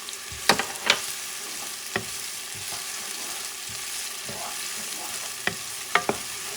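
Garlic fries in a pan over medium heat for a collard green and sausage soup, with a soft steady sizzle broken by several sharp scraping clicks as it is stirred.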